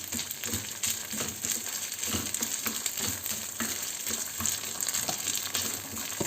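Rice roasting in butter in a pan while being stirred, a dense continuous sizzle with repeated spatula scrapes close up.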